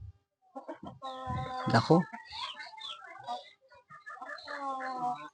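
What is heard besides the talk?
chicken clucking, rooster and laying hen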